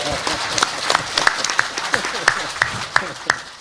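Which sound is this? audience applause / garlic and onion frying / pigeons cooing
audience applause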